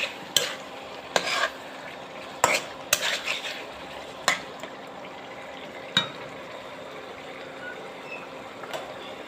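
Washed fish being stirred in a pan, several sharp metallic clanks and scrapes of a utensil against the pan, close, over a faint steady background hum, then tapering off into quiet.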